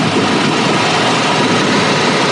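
A car engine runs at a steady idle after starting, a loud, constant rumbling hum close up with no break and no voices.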